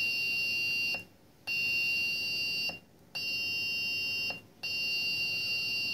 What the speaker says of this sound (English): When I press this push button, this buzzer will become on.